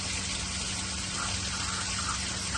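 Water rushing out of an open valve on an RV water line during de-winterizing, a steady gushing splash, fairly close and continuous for the whole moment with no voices.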